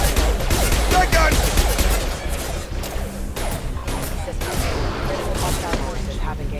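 Rapid shotgun blasts in Mass Effect 2 combat, a loud, busy volley of cracks and impacts densest at the start and continuing throughout, mixed with game voices and chatter.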